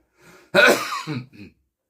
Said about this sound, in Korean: 얘기를 하다 보면 이렇게 기침도 나요.